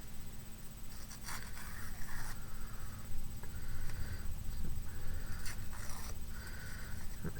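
A scalloped edge is trimmed off paper for a vintage-styled handmade card, heard as several close, scratchy cutting strokes in short bursts separated by brief pauses.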